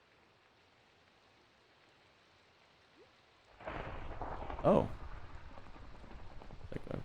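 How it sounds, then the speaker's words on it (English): Rain and thunder in Minecraft, starting abruptly partway through as a steady hiss of rainfall with a brief rumble of thunder, while a person briefly exclaims. "Rain. Okay."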